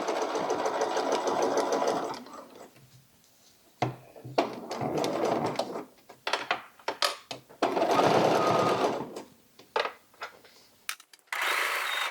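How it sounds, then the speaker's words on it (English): A sewing machine stitches through several layers of a 1920s-style cloche hat at about a 3 stitch length, running in loud close bursts of steady whirring with pauses and stop-start pulses between runs. "And I am sewing with about a 3 stitch length."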